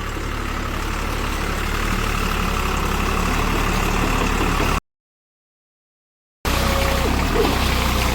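Deutz-Fahr Agrolux 50 tractor with extra front weights fitted, running on cage wheels; a steady, loud low engine rumble with a knocking beat, cut by a short gap of silence near the end.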